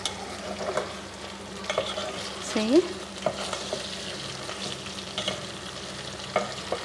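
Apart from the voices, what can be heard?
stirring vegetables into frying potatoes in a pan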